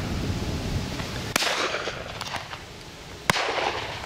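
Two sharp shotgun reports at an outdoor partridge shoot, the first around mid-clip and a second loud crack near the end, each a sudden bang over steady open-air background noise.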